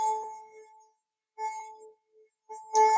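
A wine glass rings with a sustained pure tone, set vibrating through the air by a second wine glass nearby without touching; the ringing comes in three separate swells that fade in between, the last one louder.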